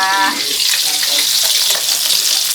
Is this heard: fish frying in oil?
yes